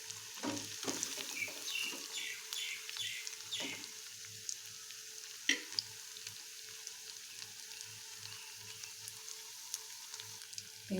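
Cutlet frying in hot oil in a home kitchen, a steady soft sizzle running throughout with scattered clicks and scrapes of a utensil in the pan; no one speaks.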